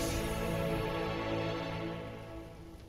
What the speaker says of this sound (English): Look at the rain on him and everything.